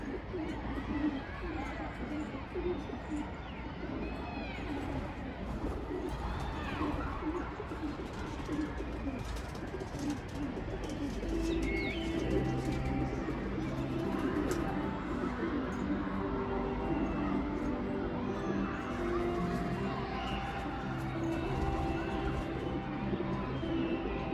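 Pigeons just released from their coop coo and flutter in a steady, overlapping chorus close by, with chattering birds behind and people talking over them throughout.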